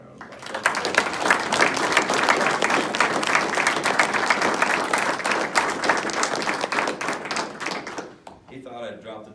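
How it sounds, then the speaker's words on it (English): Applause for a retiring police chief at a ceremony: dense, steady clapping from a large crowd that holds for about eight seconds, then fades as a voice begins speaking. "please give Chief Bowen a round of applause"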